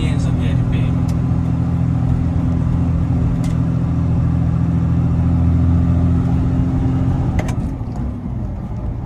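A Ford F250 pickup with an MWM diesel engine drones steadily while driving, held at low revs with a deep, constant rumble inside the cab, easing slightly near the end.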